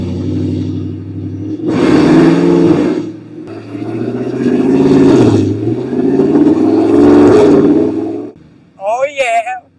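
Audi R8 engine on its first test drive after a rear rebuild, roaring loudly as it accelerates through gears in surging bursts with short lifts between, then a brief excited voice at the end.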